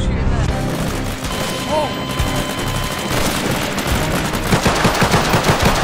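Gunfire in Garry's Mod PoliceRP, rapid repeated shots throughout, growing into a clear rhythmic burst near the end, with players shouting over it.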